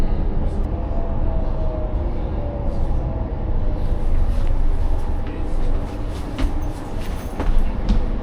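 A loud, continuous rumble of a moving train with rattling and faint rail noise, building slightly toward the end.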